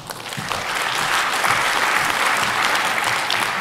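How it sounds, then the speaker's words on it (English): Sustained audience applause at a research presentation on knowledge translation, a dense, steady wash of many hands clapping that swells in the first second and holds loud and even throughout. "Don't clap me yet"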